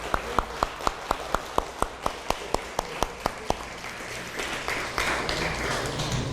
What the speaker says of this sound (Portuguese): Agora dá um aplauso ao Senhor.